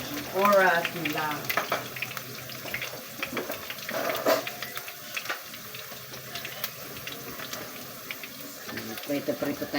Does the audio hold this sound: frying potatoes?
yes